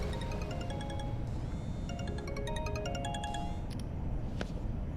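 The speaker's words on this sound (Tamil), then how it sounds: "ப்ரோ ஃபோன் அடிக்குது." A mobile phone rings with a melodic electronic tone, a repeating bright pattern of stepped notes over a muffled indoor background hum, and no one speaking.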